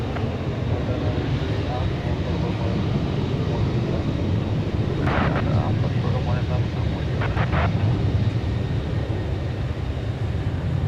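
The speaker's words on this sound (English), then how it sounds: "There goes American Flight 1597 off to Bozeman, Montana. A 737-800." American Airlines Boeing 737-800 jet departing DFW Airport for Bozeman, Montana, a steady broad roar rumbling at a distance, with brief radio-like voices chattering over it midway.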